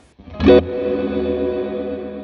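A single plucked guitar note rings out, then blurs into a smeared wash of repeating echoes from a fully diffused multi-tap delay on a Fractal Audio modeler, holding steady and fading slowly.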